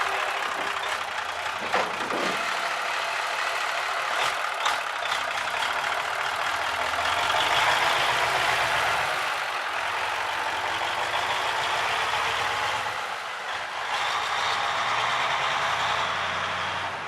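A Cummins 903 engine in a 1972 White Motors cabover truck runs with a steady, throaty rumble. A few clanks come early, and the sound swells slightly midway, heard from close range with no speech.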